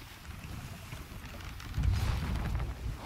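A sailing ship in the Sea of Thieves video game runs before the wind, a steady rushing whoosh of wind and water that swells louder about halfway through, with no talk over it.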